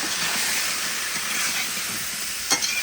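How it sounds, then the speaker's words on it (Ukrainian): Meat with sliced mushrooms and onions frying in a kazan gives a steady, close, broad sizzling hiss, with one brief stir or clink near the end and no talking. "Нарізану полотицями і обсмажуємо ще цибульку до золотого кольору"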